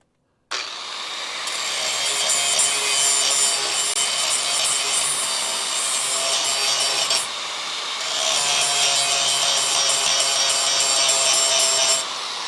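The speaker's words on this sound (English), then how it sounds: "Now the grinding wheel is making real short work of what I can get at" A grinding wheel grinds heavily expanded, solid rust off a truck. The loud, continuous abrasive roar runs in two long passes separated by a brief dip.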